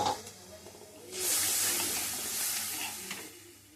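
Water poured from a rinsed mixer jar hits frying spices in a pan, setting off a soft hiss and sizzle that swells midway and fades.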